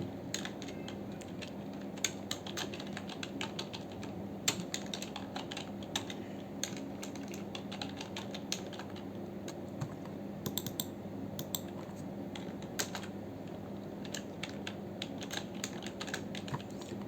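Continuous keyboard typing while text is entered into a spreadsheet cell in Microsoft Excel, a steady stream of soft, fairly quiet key clicks with a few sharper taps over a low background hum.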